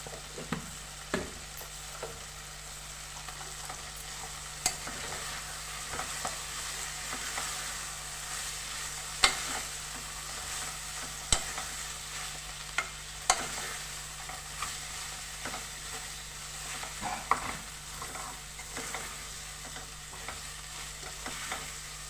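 Ginger paste fries in oil in a pan, giving a steady soft sizzle, with scattered scraping clicks of a spoon stirring it at irregular moments; it stays fairly quiet and there is no speech.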